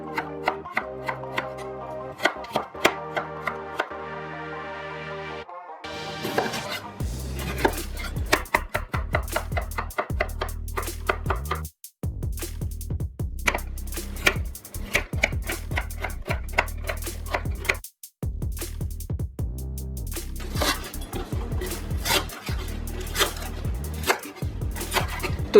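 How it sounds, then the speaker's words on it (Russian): Vegetables for Korean kimchi salad being cut into julienne strips on a board, rapid rhythmic knife chops in long fast runs broken by brief pauses, close and crisp. "Все овощи я порежу соломкой, кроме лука, имбиря и чеснока"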